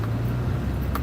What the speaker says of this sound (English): we're stuck just trying to get out of this parking lot because of traffic